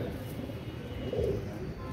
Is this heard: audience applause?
no